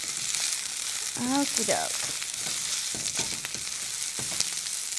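Vegetables stir-fry in a hot pan with a steady sizzle and occasional stirring clatter, while a person speaks briefly over the cooking.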